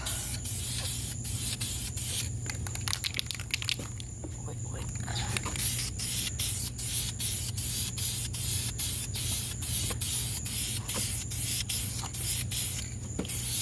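A spray gun hisses steadily while painting the barrel of a wheel, broken by rapid short bursts and clicks as the trigger is worked, close and fairly loud.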